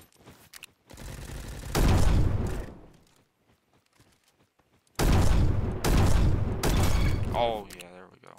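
Rapid automatic gunfire from a scoped weapon in the Roblox shooter Bad Business, two dense bursts separated by a pause, loud and close with mechanical clatter after the second burst.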